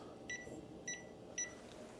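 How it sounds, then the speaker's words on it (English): Three short, bright electronic beeps, evenly spaced about half a second apart, sound as a kitchen timer is set for 20 minutes while baking egg bites, quiet and alone over faint room hum. "Set the timer for 20 minutes."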